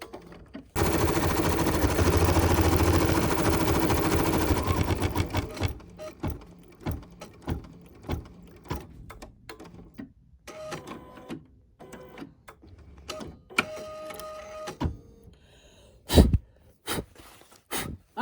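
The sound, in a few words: sewing machine stitching a satin stitch in white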